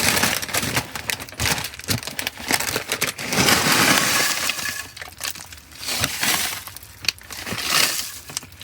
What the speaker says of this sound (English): Gonna dump these tortilla chips in that pan.